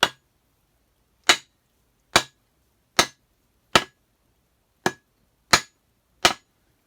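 Eight sharp, separate hammer strikes driving an axe head onto its wooden handle, loud and close, spaced roughly a second apart with silence between blows.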